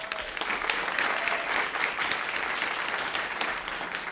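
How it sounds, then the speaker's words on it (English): An event audience applauds the organizing team with a full, continuous round of clapping at a steady level, sharper individual claps popping out of the dense crowd sound. "So just a round of applause for them."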